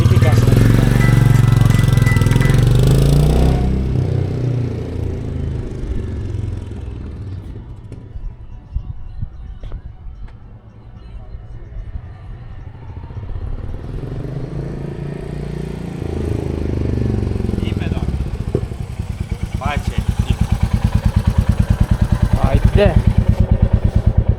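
Royal Enfield Meteor 350 motorcycle running loud at first, then fading to a low steady idle thump before building again, with people talking over it.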